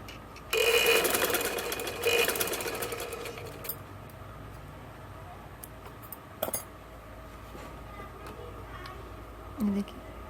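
Sewing machine stitching the seams of a kurta, a close, brisk mechanical run lasting a couple of seconds, then quieter handling and clicks with a faint clunk near the end.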